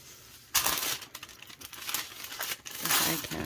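Crinkling, crackling bursts as a decal is peeled from its paper backing for a mermaid glitter epoxy tumbler, several close rustling pulls in a row with brief pauses between them.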